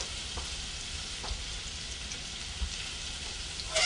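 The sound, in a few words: onion frying and sizzling in hot oil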